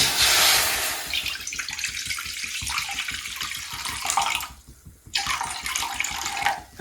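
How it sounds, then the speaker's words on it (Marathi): Water pours steadily from a half-litre jug into a metal pot with a splashing, rushing flow, briefly pausing near the end before resuming. "आता आपण अर्धा लिटर तांब्या भरून पाणी टाकतोय"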